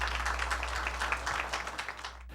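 Audience applause at a community building handover function, a steady patter of clapping from a gathered crowd over a low background hum, fading out abruptly after a couple of seconds.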